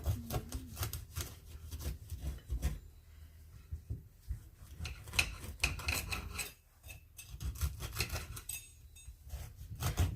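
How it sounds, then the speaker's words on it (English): A knife saws slices from a loaf of homemade bread: steady, rasping back-and-forth strokes in bursts, with a brief pause midway before the scraping cuts resume. "So I'm going to go ahead and cut up a few slices."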